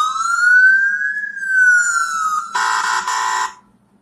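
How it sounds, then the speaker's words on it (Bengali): A mobile phone's anti-theft alarm goes off as the handset is lifted, a loud electronic wail that rises and falls smoothly, then switches to a harsh pulsing buzz for about a second before cutting out. "এবার হঠাৎ কেউ যদি মোবাইলটাকে তোলার চেষ্টা করে, আমি তোলার চেষ্টা করছি, দেখো অ্যালার্ম বাজবে।"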